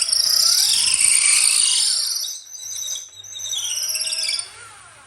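A power drill whines at high pitch as it bores through a kudu horn shofar, the tone shifting and dipping midway before the motor continues, loud and close.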